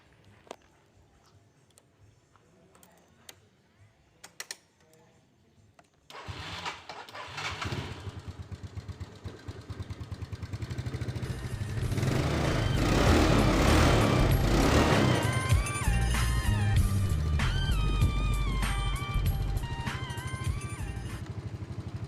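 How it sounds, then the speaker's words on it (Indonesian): A used Yamaha Mio scooter engine cranks and catches after a few quiet seconds of ticking, then runs steadily and grows louder with revving. Close and loud, with no talking over it. "Oke, kita langsung cek sound dulu mesinnya."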